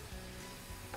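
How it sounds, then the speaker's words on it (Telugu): Mustard seeds temper in hot oil with cumin and chana dal for curd rice, giving a steady, dense sizzle with faint crackles, close and quiet in a short burst without any talking. "మధ్య మధ్యలో టక్ టక్ సౌండ్ చాలామందికి నచ్చుతుంది."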